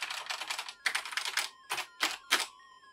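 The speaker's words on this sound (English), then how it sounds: "we start off with a pretty decent full travel keyboard." Brisk typing on the full-travel keyboard of a BBC Micro computer, several quick bursts of clicky keystrokes separated by short pauses, close up.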